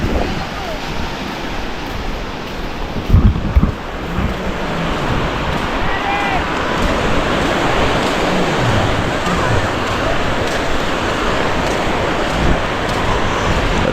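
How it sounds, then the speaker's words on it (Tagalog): Strong sea waves surge on a shore in a steady broad wash, continuous and fairly loud with wind noise, and a brief knock near the start. "Malakas yung alon."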